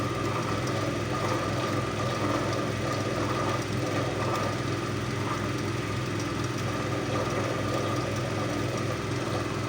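A universal AC series motor runs on a 40-volt supply at about 1258 RPM on a lab test bench, making a steady, continuous mechanical hum and whir at moderate loudness with no talking over it.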